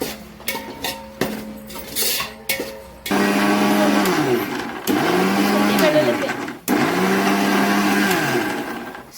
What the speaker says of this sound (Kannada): ಶುಂಠಿ ಬೆಳ್ಳುಳ್ಳಿ ಪೇಸ್ಟನ್ನು ಈ ರೀತಿಯಾಗಿ ಮಿಕ್ಸಿಗೆ ಹಾಕೊತಾ ಇದ್ದಾರೆ.